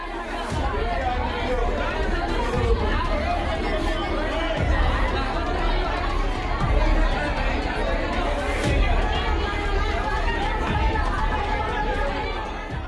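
Hundreds of people crowd a vaccination centre in Amethi, filling the space with a dense, continuous babble of overlapping voices and shuffling that holds at an even, loud level throughout.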